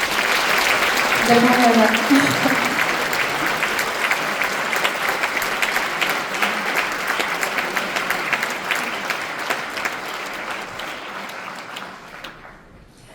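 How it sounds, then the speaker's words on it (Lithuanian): Audience at an awards ceremony in Alytus applauds, a sustained close wash of many hands clapping that gradually thins and fades out, with a voice briefly speaking over it early on. "Na tikrai plojimai ir pasitinka ir išlydi kiekvieną čia į sceną ateinantį ir nuo scenos nueinantį"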